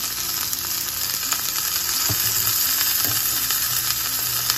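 Wild bolete mushrooms are stir-fried in a pan, giving a close, continuous sizzle with faint stirring scrapes throughout.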